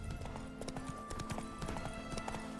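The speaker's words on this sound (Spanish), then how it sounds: "Dale, déjame correr con el caballo." Rhythmic hoofbeats of a running horse in The Witcher 3, an even clip-clop cadence over a low game soundscape and background music.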